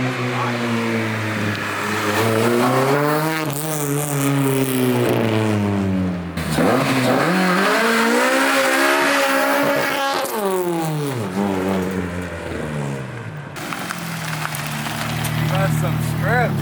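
A 300 hp K24-swapped Honda Civic with a modified exhaust drives along, its engine note rising and falling through gear changes with a deep, steady drone, loud and close, while people talk inside the car.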